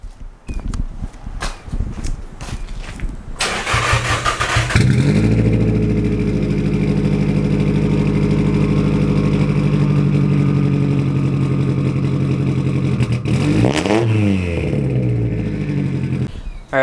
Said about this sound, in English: Let me give you a cold start of the car